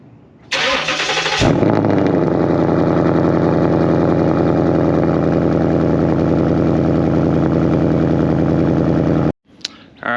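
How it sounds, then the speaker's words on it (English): A Ford Mustang running a stock exhaust with a Steeda H-pipe cold-starts with a sharp crank and catch, then settles into a loud, steady, throaty idle close by before cutting off abruptly near the end. "we're gonna fire it up, have y'all listen to the last cold start with the stock, everything except the H pipe"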